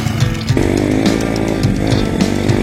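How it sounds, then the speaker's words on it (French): An Apollo RFZ enduro dirt bike held in a wheelie, its small engine buzzing loudly and raspily at high revs with slight wavering pulses, heard close and continuous. "Et Juju, c'est du wheeling."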